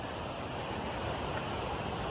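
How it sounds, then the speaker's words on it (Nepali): A river swollen by heavy rain rushes in a continuous broadband roar that stays close and steady throughout, with no voices. "खोला बगिरहेको छ। खोलाको आवाजहरू सुन्दै हुनुहुन्छ होला नि।"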